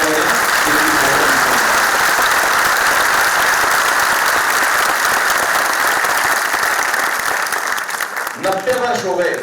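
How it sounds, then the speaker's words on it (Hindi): An auditorium audience at a poetry tribute to martyrs breaks into loud, dense, sustained applause that fills the hall for several seconds before tapering, with a voice speaking as it dies down. "सारा सदन एक बार हाथ उठाकर हमारे शहीदों के लिए जोरदार तालियां बजाएं।"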